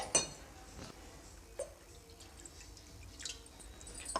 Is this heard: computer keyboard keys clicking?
no